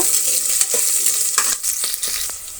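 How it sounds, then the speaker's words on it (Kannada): Two thinly sliced onions fry in a pan for a spinach egg biryani, with loud, close sizzling and a series of scraping stir strokes through the pieces. "ಇದು ಒಂದು ಸ್ವಲ್ಪ ಫ್ರೈ ಆಗಲಿ, ಈರುಳ್ಳಿ ಕೂಡ."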